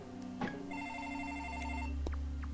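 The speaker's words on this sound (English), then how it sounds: "And the phone rings." A telephone rings in the room over steady Legend of Zelda: The Wind Waker game music, a single clear electronic ring tone of about a second and a half sitting up front in the mix.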